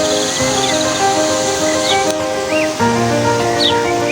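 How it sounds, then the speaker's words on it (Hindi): Steady rushing water flowing nearby, a continuous broadband wash with faint higher chirps over it. "ये पानी है बहता हुआ।"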